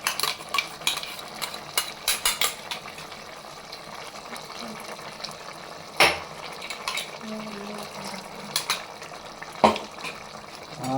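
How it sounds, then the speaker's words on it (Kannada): A spoon stirs tomato pulp into chicken liver and gizzard masala frying in a pot, with soft sizzling, scraping and scattered sharp clinks of utensil against metal. "ಈಗ ಟೊಮೊಟೊ ಪಲ್ಪೆಲ್ಲ ಹಾಕಿದ್ದೆ, ಎಲ್ಲ ಮಿಕ್ಸ್ ಮಾಡಿದೆ"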